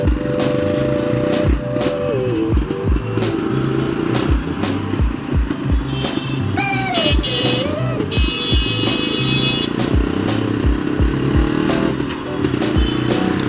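A vintage 1961 Jawa 250 motorcycle idles and is revved close by, its two-stroke engine and exhaust popping in a steady, uneven beat with a few rising revs.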